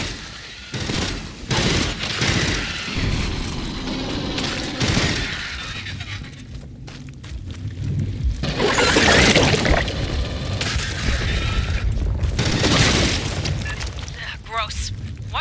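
Gunfire bursts in the sci-fi shooter Aliens Fireteam Elite, aimed at a bladder of volatile gas, with loud rattling volleys and booming blasts that swell and break off, under game voices and noisy combat.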